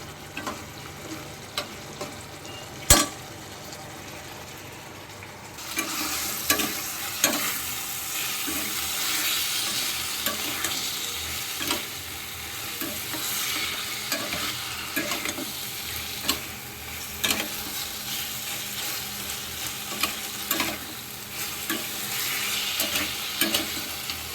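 Masala with onion and capsicum fries in a pan for a spiced chicken dish, a steady broadband sizzle running throughout with frequent scraping stir clicks, louder after the first few seconds and with no voices.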